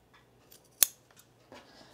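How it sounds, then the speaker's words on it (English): A single crisp snip of scissors cutting through shirt fabric, trimming a seam corner while sewing a men's tropical shirt; close and sharp, followed by faint handling rustle and quiet surroundings. "let's trim this corner right here"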